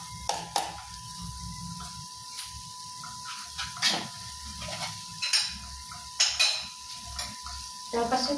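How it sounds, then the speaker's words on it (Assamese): Food fries in a pan on a live cooking show while a spoon stirs it, a steady sizzle broken by repeated scraping clicks against the pan, close and moderately loud. "অকণমান দেৰি ভাজিব লাগিব।"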